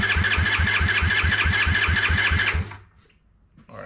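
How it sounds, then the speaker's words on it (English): A Honda ATC 70 fitted with a Piranha 140cc engine cranks over without spark: a fast, even rhythmic chugging from the starter for about two and a half seconds, loud and close, then it cuts off to near silence. "I'm gonna go ahead and turn it over a little bit with no spark to let the oil go through the motor"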